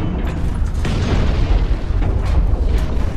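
Grenades bursting in the mech shooter Hawken, a dense run of loud booming explosions rolling into one another with continuous rumbling blasts throughout.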